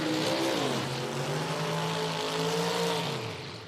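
A Top Sportsman door car idles and revs in the staging lanes at an IHRA drag strip in Hebron, Ohio, a steady, loud engine drone with rising pitch and no voices, easing off at the end.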